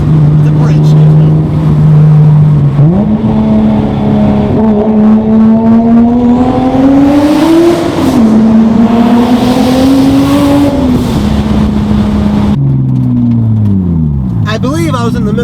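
A single-turbo Toyota Supra sports car revs hard inside a tunnel, its engine drone climbing, dipping and climbing again in pitch, loud and close with the enclosed space booming around it.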